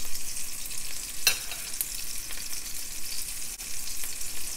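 Chicken fries in a pan over low-medium heat, a steady bright sizzle broken by a few sharp crackles and pops, close up with no voices.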